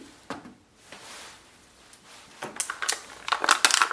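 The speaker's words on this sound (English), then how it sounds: "So remove the ink cartridges from packaging" Packaging for a Canon ink cartridge crackles and crunches nearby as the cartridge is pulled free, starting with a few sparse crinkles and building into a denser burst of rustling at the end.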